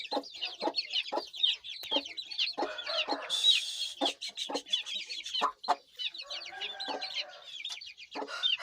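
Aseel roosters cluck and chatter repeatedly in a farm setting, a busy overlapping stream of short calls from several birds, fairly close and moderately loud.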